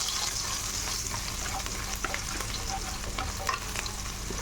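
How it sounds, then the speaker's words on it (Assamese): Chopped ginger and garlic fry in hot oil in a pan with whole five-spice seeds, giving a steady, dense sizzle that runs throughout, with a few faint clinks of stirring. "আদা নহৰুটো অলপ মই ভাজি ল'ম।"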